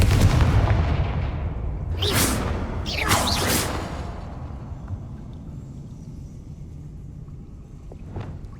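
The Confringo explosive fire spell in Hogwarts Legacy bursts with a loud opening boom, then two sharp whooshing blasts follow, fading into a low rumbling tail and a faint final crack.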